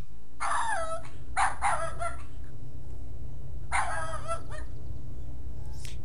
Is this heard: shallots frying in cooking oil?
no